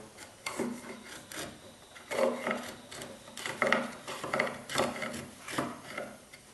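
A light hand chisel, used without a mallet, cuts and pares walnut wood for a rustic table in rhythmic close-up scraping strokes, one after another.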